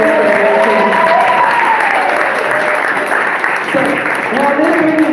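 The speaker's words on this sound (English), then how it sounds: "can you get one more round of applause for this type" An audience at a college Founders Day event applauds loudly and continuously, with voices and cheering mixed into the clapping.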